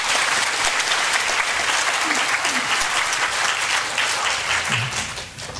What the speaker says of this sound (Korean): 우리 하나님께 영광의 박수 돌리도록 하겠습니다.